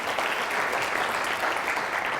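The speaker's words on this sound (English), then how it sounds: "Let's give the laws a big round of applause for actually inviting me out here" Audience applause fills a room at an orthodontist study group, steady dense clapping sustained throughout at moderate loudness with no pauses.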